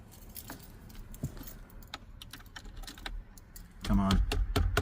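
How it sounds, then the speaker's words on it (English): A bunch of keys jangles and clinks as it is untangled near a red 1985 Pontiac Fiero 2M6 barn find, light metallic rattles throughout that grow louder and busier toward the end, with faint voices around. "I can untangle the keys."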